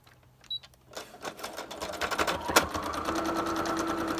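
A sewing machine stitching a cereal liner to a paper envelope starts after a few faint clicks and builds into a fast, steady, close mechanical whirr of stitching.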